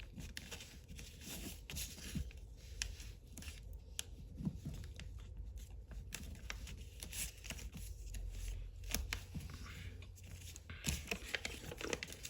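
Crisp origami paper being creased and folded back up while shaping a Foxbat model, with continuous close rustling, crinkling and brief snaps of the sheet, fairly quiet throughout.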